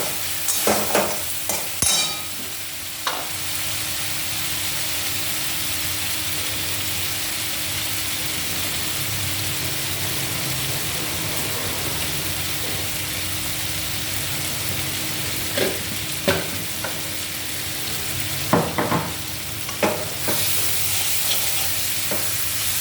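Rui fish curry (rui macher jhal) being stirred in a hot pan, a continuous close sizzle with intermittent scraping strokes of the spoon against the metal, no talking.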